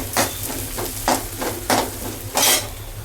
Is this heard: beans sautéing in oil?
yes